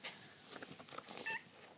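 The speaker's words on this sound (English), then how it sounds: "Here's my cat." A fluffy pet cat gives a short, soft meow that is fairly faint and close, with some light household noise around it.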